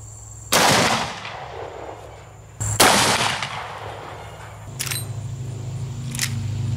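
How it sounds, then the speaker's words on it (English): Two loud, close gunshots from a Henry all-weather lever action 45-70 rifle with an 18-inch barrel, firing 430-grain hard cast ammunition outdoors, each a sharp crack with a ringing decay, followed by faint mechanical clicks of the lever cycling. "We have a Henry all-weather lever action 4570 with an 18-inch barrel."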